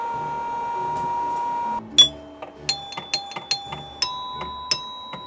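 Bell on a home-built virtual pinball machine, driven by a solenoid and mounted behind the coin door, rings in a quick series of sharp metallic strikes. A sustained tone and a low knock come first, followed by about ten distinct dings of uneven spacing.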